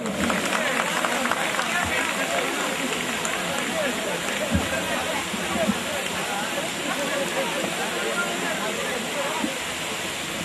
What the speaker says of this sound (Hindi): तो प्लीज एक बार जोरदार तालियां